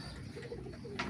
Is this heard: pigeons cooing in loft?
yes